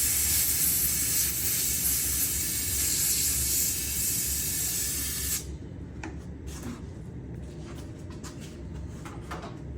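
Compressed air blasting steadily through the small oil port of a chainsaw bar, a loud continuous hiss that cuts off abruptly partway through, leaving quieter handling noises behind.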